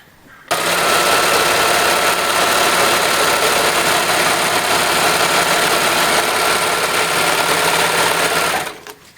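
A sewing machine stitches a circular fabric seam on protective equipment, running as one loud, steady mechanical whir for about eight seconds, then stopping.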